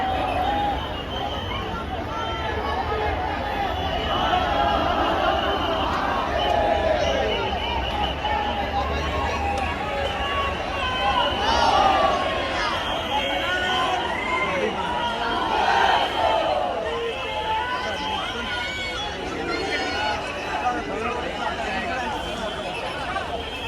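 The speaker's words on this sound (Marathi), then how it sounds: "हा नुसता बाप्पाचा जल्लोष चालू आहे" At a Mumbai Ganpati arrival procession, a large crowd keeps up a loud, steady din of shouting, chanting and chatter, with swelling bursts of cheers rising over the constant hubbub.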